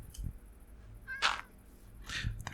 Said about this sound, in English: There is a cat.